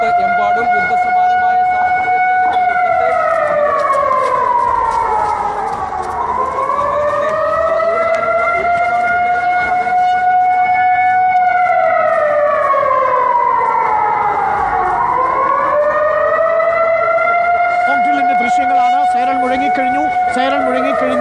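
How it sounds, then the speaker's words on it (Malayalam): A civil defense siren wails during a nationwide mock air-raid drill, loud and steady with slow rising and falling sweeps that repeat over about twenty seconds. "സൈറൻ മുഴങ്ങിയിരിക്കുകയാണ്. അതായത് നേരെ മോക്ക് ഡ്രില്ലിലേക്ക് കടക്കുകയാണ്."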